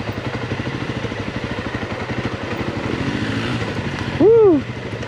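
A dirt bike in first gear coasts downhill, its engine putting out a steady rapid idle-like chugging close by. A short voice exclamation near the end rises over the engine.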